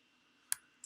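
Clicks from a computer keyboard that is acting up: one sharp, quiet click followed by a fainter second tap, over a low, steady room hum.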